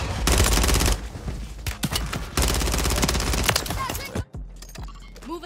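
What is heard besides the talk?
gunfire in the video game Call of Duty: Warzone 3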